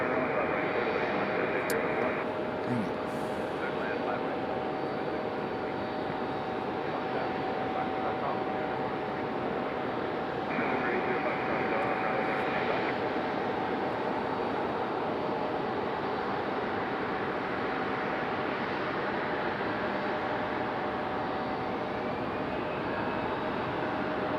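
An Airbus A320 departs from Raleigh-Durham International Airport, heard as a broad, steady jet roar that holds at an even level from start to finish, with no clear build or fade.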